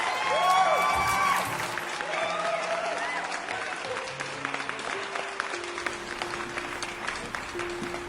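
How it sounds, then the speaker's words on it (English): A wedding reception crowd applauds as the groom's best friends are called up to give speeches, with loud, dense clapping at first that settles into a steady, slightly thinner patter while a few voices murmur. "Please give them a warm round of applause."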